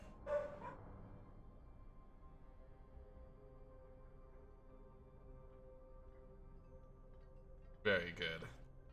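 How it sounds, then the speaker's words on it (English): A big dog barks indoors in two short bursts, one near the start and one near the end, over a steady hum with a voice in the background. "my dog's barking"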